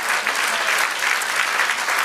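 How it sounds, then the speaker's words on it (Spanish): Steady applause from a church congregation during a sermon, a dense patter of clapping that holds at an even level throughout. "Dale un aplauso a Él."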